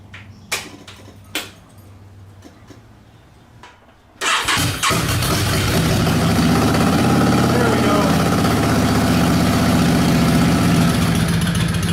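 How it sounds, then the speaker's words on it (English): A Yamaha V-Star 650 motorcycle cranks and fires after an oil change, then settles into a loud, steady idle; before it starts, a few handling knocks and quieter sounds are heard. "the last thing to do is to start it up. Let it run for probably about 5 minutes or so just to circulate the oil around"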